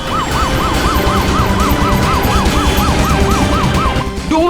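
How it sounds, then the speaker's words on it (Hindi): An ambulance siren from a CID crime drama episode wails loudly and close in a fast, regular up-and-down cycle over low engine rumble, then shifts pitch abruptly just before the end. "जल्दी से एम्बुलेंस मंगाओ"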